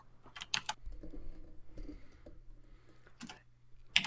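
Someone types on a computer keyboard in short, irregular bursts of light clicks and taps. The sound is close and fairly quiet, with no talking.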